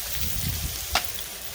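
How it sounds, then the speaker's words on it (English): Shrimp sizzle in butter on the hot side of a pan in an RV kitchen, a steady close crackling hiss with one brief sharper spatter. "This is the hot side over here. And I'm just going to put the shrimp right on"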